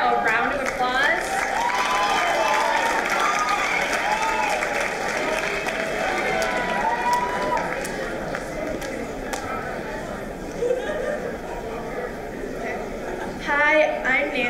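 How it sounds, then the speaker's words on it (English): An audience claps steadily for presenter Nancy Chen at a Writers Week reading, a sustained mid-level wash of applause that continues for most of the stretch before a brief lift near the end. "our first presenter is Nancy Chen, so please give her a round of applause"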